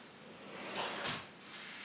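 A Blum Tandem undermount kitchen drawer box slides and clicks into its locked position, a soft, faint sliding rush with a muted latch sound in the middle, heard alone against quiet room noise.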